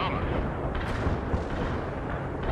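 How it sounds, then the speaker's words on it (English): A tank under fire in the World in Conflict strategy game, a dense continuous rumble of explosions and artillery impacts with a few sharper bursts, moderately loud and without clear speech. "My poor tank is getting wrecked."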